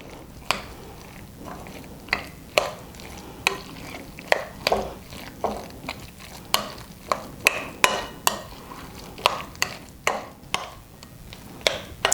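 A spoon works guacamole made with lime and lemon pepper in a bowl, giving a steady run of sharp, close clicks and soft squelches, roughly one or two per second, over a quiet background.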